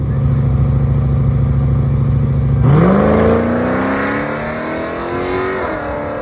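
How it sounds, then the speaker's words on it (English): A Dodge D100 truck with an upgraded torque converter and CRT valve body launches hard, its engine revving loudly up close with a steady rumble that climbs sharply into a rising roar as it pulls away. "So let me show you what the launch looks like right now."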